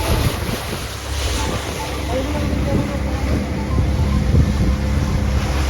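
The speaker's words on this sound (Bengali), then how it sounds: "আমরা সবাই প্রস্তুতি নিয়ে উঠে পড়লাম স্পিড বোর্ডে" A speedboat cruises across a resort lake, its steady engine drone mixed with rushing water and heavy wind buffeting the microphone throughout.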